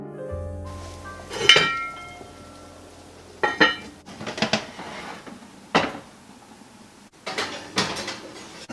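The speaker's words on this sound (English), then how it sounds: "I'm going to cover it and I'm going to put it in the oven" A lid is set onto a pot of chicken soup with a few sharp metallic clinks and clatters spread out over several seconds, separated by quiet gaps.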